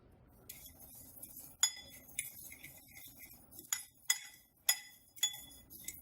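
A metal utensil clinks repeatedly against a bowl while paprika is mixed into breadcrumbs, sharp close taps at an uneven pace over quiet background.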